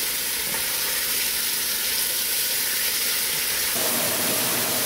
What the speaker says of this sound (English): this meat is browning very nicely